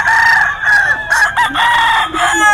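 A rooster crows loudly and close at a Philippine gamefowl market with hundreds of chickens, long strained calls repeating with other birds clucking and crowing around it.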